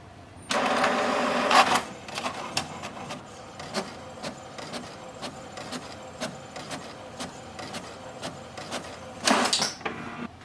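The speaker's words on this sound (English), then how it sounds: "Printer just printed the alignment page." HP DeskJet 4222e printer printing an alignment page: a loud whirring feed at the start, then rapid rhythmic clicks and ticks of the print head moving, ending in another whir as the sheet ejects.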